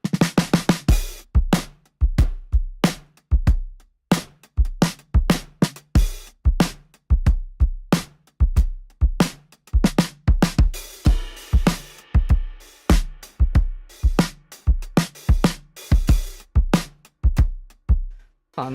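Sampled drum kit played through Addictive Drums software: punchy kick and snare hits with crisp cymbals in a steady groove, loud and close throughout, no talking.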